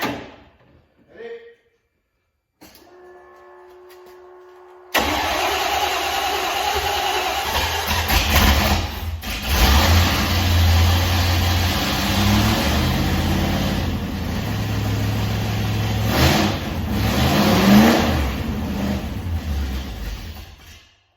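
A Fox car engine starts and runs unevenly, rising into rough revs and dipping again, loud and close, with voices talking over it.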